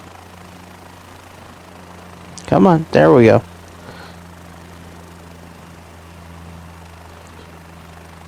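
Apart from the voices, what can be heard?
aircraft engine running in video game Microsoft Flight Simulator 2024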